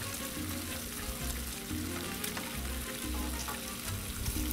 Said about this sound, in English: that's just the way I like to cook bacon